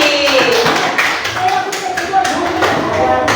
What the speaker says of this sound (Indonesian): Ya, kasih tepuk tangan dulu buat Putri.